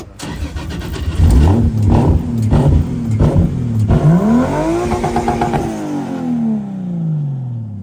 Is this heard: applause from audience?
no